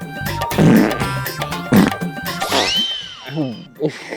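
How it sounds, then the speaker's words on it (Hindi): A loud, comedic fart sounds in bursts amid lively Hindi chatter and laughter, with sharp buzzing blasts punctuating the talk and a squeaky tail near the end. "बड़े तेज पादरी है तो।"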